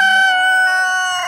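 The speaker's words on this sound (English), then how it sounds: "Besides a loud rooster," A loud rooster crows close by, a single long drawn-out call with a strong harmonic tone that fades slightly at the end.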